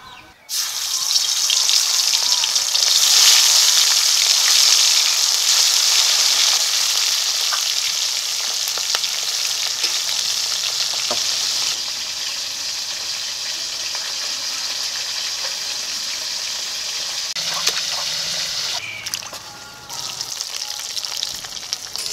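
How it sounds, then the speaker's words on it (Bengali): Freshwater fish, native spiny eel and garfish, frying in hot oil with a loud, steady sizzle and crackle that runs throughout and eases slightly toward the end. "তেলটা গরম হয়ে গেছে, এখন এই মাছগুলোকে আমি ভেজে নিচ্ছি।"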